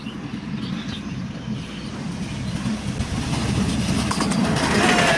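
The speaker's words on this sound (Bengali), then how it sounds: "এই যে ট্রেন।" A train rumbles past a roadside clearing in Noapara, a steady low rolling roar with faint clickety-clack that grows louder toward the end as the cars pass close by.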